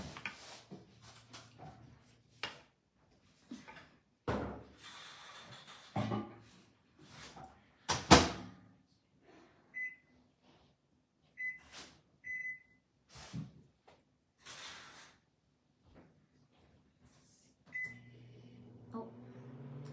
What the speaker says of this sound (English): let me put this in the microwave